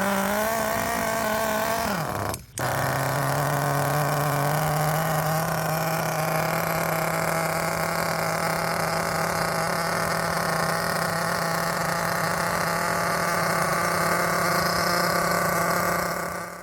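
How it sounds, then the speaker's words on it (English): A homebuilt nitro RC basher car's small engine catches after preheating, briefly stumbling, then settles into a steady, buzzy, high-pitched idle that runs on without any talking. "let's get this thing preheated and see if it'll start"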